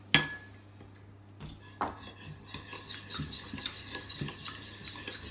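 Coloured mixture for rainbow bark stirred in a bowl, soft scraping and rubbing strokes repeating at an irregular pace, close but fairly quiet, with faint background voices.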